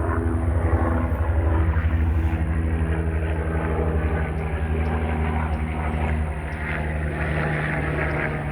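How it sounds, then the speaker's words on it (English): A medical helicopter drones overhead above a river bluff with a steady rotor thrum, loud and close, gradually easing slightly as it passes. "This helicopter's coming back over."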